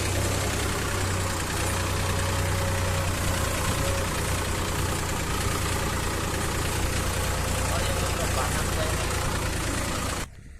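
A tractor engine idles nearby with a steady low chugging hum, continuous throughout before cutting off abruptly near the end.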